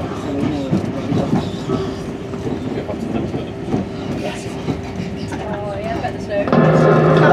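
An ARRIVA Trains Wales train runs on rails, giving a steady rumble with a sustained tone and occasional clicks from the track, fairly loud and continuous, rising slightly near the end.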